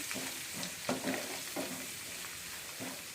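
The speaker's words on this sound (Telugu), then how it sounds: "ఈ ఆయిల్లో ఇట్లా మనం ఫ్రై చేసుకుంటే" Baby potatoes frying in oil for a pickle, a steady broadband sizzle with a few soft stirring scrapes at intervals, close and fairly quiet with no talking.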